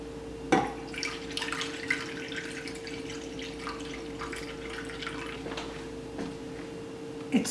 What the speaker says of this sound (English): Use hot water and bring it to the level of maybe 1/3 to half